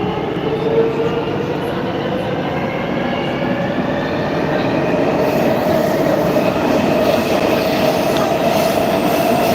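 A metro train runs between stations toward Politekhnika, with a steady loud rumble of wheels on rails, rhythmic clickety-clack and faint wheel squeal throughout, with no talking.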